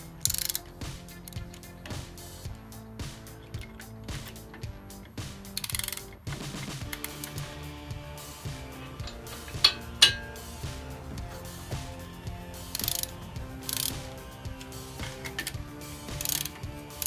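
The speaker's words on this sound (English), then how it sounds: "I'm going to go ahead and torque this to 5 pounds" A ratchet with a 13 mm socket tightens engine bolts on a 1971 Volkswagen engine, a steady series of close, quiet clicking pawl strokes in an uneven rhythm, with occasional sharper metallic taps.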